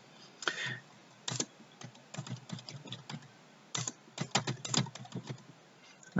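A computer keyboard clatters under steady, uneven typing, with clusters of close, crisp keystrokes separated by brief pauses, quiet overall.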